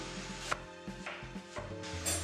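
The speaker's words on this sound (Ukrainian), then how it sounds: "Починаю з цибулі. Нарізаю довільними шматками." A knife chops through onion on a board, several irregular close taps and scrapes, quiet and unhurried.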